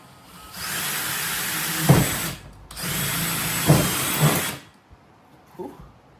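A power drill bores into the body of a Honda Civic Si in two loud, sustained bursts of a couple of seconds each, separated by a short pause, followed by a faint brief sound.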